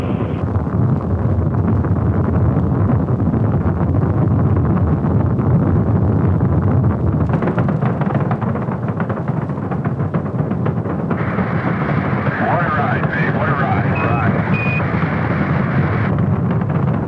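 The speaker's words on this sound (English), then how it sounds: "All engines running. Launch commit. Liftoff." Apollo 10's rocket engines thunder at liftoff, a loud, continuous, broadband roar and rumble that holds for many seconds with crackling grit layered on top.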